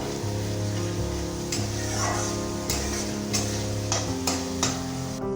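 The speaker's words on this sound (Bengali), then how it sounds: "এবার মশলাটাকে খুব ভালোভাবে কষিয়ে নেব। দিয়ে দেব মটরশুঁটি।" Masala spice paste with green peas fries and is stirred in a pan for Bengali aloo dum, a steady close sizzle broken by repeated scraping strokes of the spoon.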